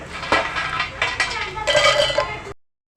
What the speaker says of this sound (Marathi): हे शेंगदाणे मिक्सरच्या भांड्यात घालावे